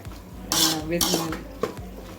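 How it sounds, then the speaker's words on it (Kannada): Spoon scraping and clinking in a pan as garam masala is stirred through gravy for veg fried rice, with a few short bursts of metal-on-metal contact, close and alone. "ಗರಂ ಮಸಾಲ ಎಲ್ಲ ಹಾಕಿ ಸ್ವಲ್ಪ ಚೆನ್ನಾಗಿ ಮಿಕ್ಸ್ ಮಾಡಿದ್ರೆ"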